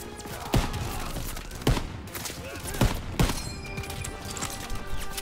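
Gunfire in the Call of Duty WWII video game, fired down on enemies from a raised spot: a run of sharp, separate shots about a second apart over battle noise and clatter, with a player talking faintly in the background.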